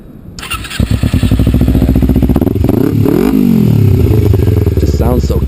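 A Kawasaki Ninja motorcycle fitted with a Dan Moto exhaust starts up close by after a brief pause. It settles into a loud, steady idle, then gets several rising and falling throttle revs, with no talking over the engine.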